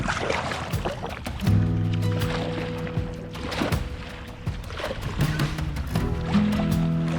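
A kayak paddles across clear sea water, with splashy strokes and gurgling water close by and a low engine-like drone running underneath.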